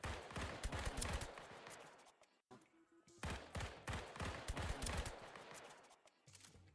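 Rapid bursts of gunfire fill a video game match, dense overlapping shots and fusillades roaring loud and continuous, cutting out for a brief moment before resuming just as heavy.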